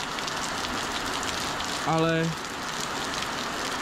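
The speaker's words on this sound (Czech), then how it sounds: "No a teď nám pěkně zapršelo." Rain falling steadily on a farm, a constant soft hiss of drops on surfaces, with a voice briefly speaking partway through.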